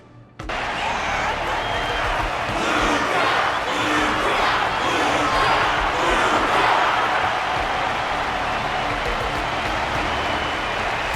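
A large arena audience in the video game Honkai Star Rail applauds a fighter after a bout, with loud, continuous clapping and crowd noise that starts abruptly and keeps up steadily throughout, and a busy murmur of voices mixed in.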